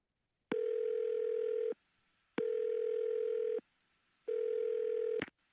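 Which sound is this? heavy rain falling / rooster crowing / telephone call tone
telephone call tone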